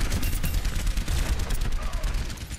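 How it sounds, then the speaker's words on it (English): Rapid, continuous gunfire from an Overwatch match rattles loudly and closely throughout, dense bursts of shots packed together without pause. "Gunshots coming that way."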